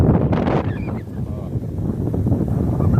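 Gusty outdoor wind buffets the microphone in a steady low rumble throughout a fishing outing, with no clear voice over it.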